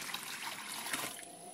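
Water pours steadily into the tank of a soft-serve gelato machine, a continuous soft splashing and trickling close by, with no voice heard.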